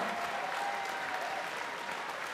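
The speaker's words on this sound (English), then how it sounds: "give Nick a big round of applause, please" Audience applause fills a fight event arena, a steady wash of clapping and crowd noise heard from a distance, fairly faint and continuous for the whole moment.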